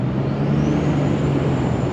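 Steady low rumble of a Cummins diesel pickup truck engine while driving, a constant cabin drone with road noise, close and unbroken, no talking.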